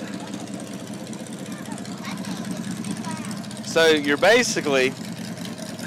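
A dragster with an 800 to 900 horsepower engine idles at a Christmas parade, a low, steady rumble throughout while someone briefly talks over it.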